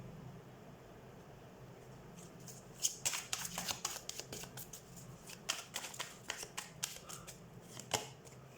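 Tarot cards are shuffled and drawn by hand, a close run of crisp riffling flutters and flicks in rapid bursts after a quiet start, with no talking.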